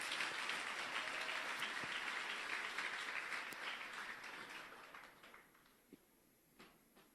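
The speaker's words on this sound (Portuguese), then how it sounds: "Dê uma forte salva de palmas para esses caras" A crowd at a church gathering claps in a sustained wave of applause that gradually thins and fades, ending with a few scattered, isolated claps.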